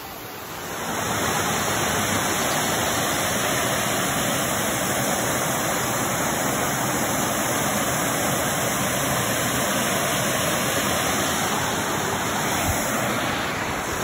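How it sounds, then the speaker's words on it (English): Steady, powerful roar of a waterfall on Mount Roberts or Mount Shaw, a constant rushing wash of water that stays loud and unbroken throughout. "I found a pretty dope waterfall"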